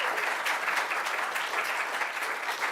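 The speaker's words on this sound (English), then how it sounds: "Can we get a round of applause for all of the presenters" An audience at a programming-languages workshop session applauds the presenters, a steady, close burst of many hands clapping that fills the whole short stretch with no pause.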